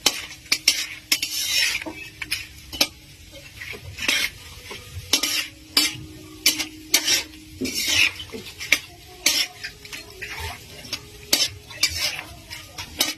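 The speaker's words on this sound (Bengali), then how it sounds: "কাজু বাদামগুলো ভেজে নিচ্ছি এখন আমরা, আর একটু লালচে করে ভাজবো" Cashew nuts frying in a pan for pulao, a steady sizzle broken by frequent sharp scrapes and clinks of a metal spatula stirring against the pan, close and fairly loud, with no voices.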